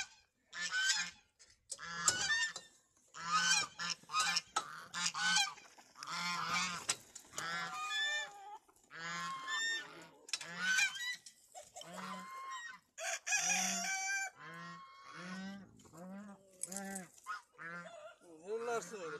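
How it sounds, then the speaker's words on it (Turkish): Busy poultry cluck and squawk almost continuously up close, a flock of chickens making excited, overlapping calls while eating. "Bak tavuklar nasıl yiyor."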